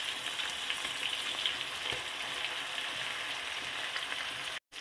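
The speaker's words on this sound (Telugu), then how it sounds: "ఇప్పుడు మనం ఇందులో టమాటా ముక్కలు వేసుకుందాం." Tomato pieces sizzle and fry steadily in a pan with onions and green chillies for a curry, a continuous close crackle with faint stirring, cutting out briefly near the end.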